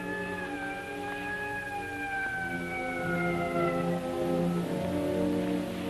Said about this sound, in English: When I got far enough away not to be annoyed by police sirens